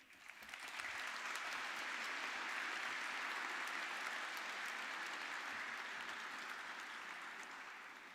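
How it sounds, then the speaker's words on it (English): A graduation audience at a high school ceremony applauds the graduates' parents, a dense, sustained wash of clapping from a large crowd that swells quickly, holds for several seconds, then gradually thins out. "Graduates, I invite you to take a moment to express your appreciation for these people through your applause."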